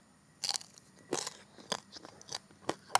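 Crispy roasted skin crunches loudly in a few sharp bites at close range, followed by crackly chewing between them, with no talking.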